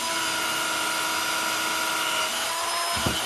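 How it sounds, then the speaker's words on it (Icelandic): A drill runs steadily with a 4 mm bit while building a model-making work board, a continuous whirring motor tone that holds throughout, with a brief lower rumble near the end as the bit bites through. "Og nú er hægt að bora með 4 mm bora"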